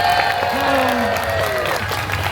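An audience claps and cheers for an ASL interpreter at a Deadpool holiday story-time show at Disneyland California Adventure, with dense, sustained applause and voices mixed in.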